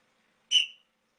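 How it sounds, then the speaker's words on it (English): A referee's whistle signals a technical foul at a basketball game: one short, sharp blast of about a third of a second, loud and alone, with nothing else around it. "You get the technical foul whistle."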